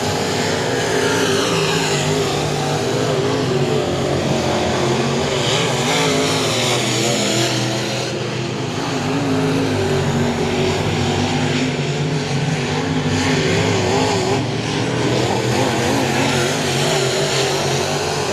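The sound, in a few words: dirt track race cars on the last lap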